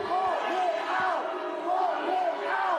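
A roused crowd of around 700 at a town hall meeting in Lincoln, Nebraska fills the room with loud, continuous shouting and jeering, many voices blending into a single rising and falling roar.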